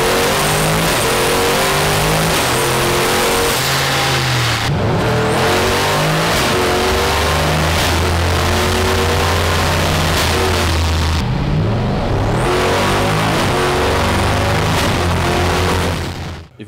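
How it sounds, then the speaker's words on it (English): A car with an eight-speed 8HP automatic gearbox under MaxxECU control kicks down from eighth gear, its engine roaring loudly and climbing in pitch, dropping briefly at each upshift and building again, with no talk. "Here's a kickdown example from gear 8."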